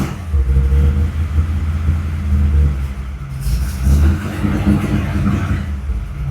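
A 1955 Chevy running rough before it has warmed up as it pulls away in first gear, a close, loud, rumbling engine that surges in two revving swells.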